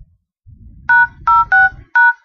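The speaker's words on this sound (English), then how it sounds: "Go into your phone and type in star" Keypad tones from an Android phone as numbers are dialed, four crisp electronic beeps in an uneven rhythm, close and loud, over faint low rumbling handling noise.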